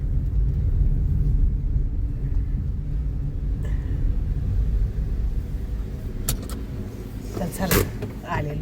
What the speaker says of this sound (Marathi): आता आम्ही पोहोचलेलो आहे गाडी पार्क करत आहे